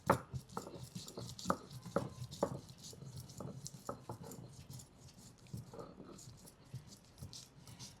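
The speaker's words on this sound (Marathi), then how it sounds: "ते आपण पाट्यावर कुटून घेणार आहे आणि कुटल्यानंतर बारीक वाटून घेणार आहे" Whole spices such as cloves and green cardamom pounded on a traditional flat grinding stone, giving sharp irregular knocks with scraping in between, fairly faint over low background noise.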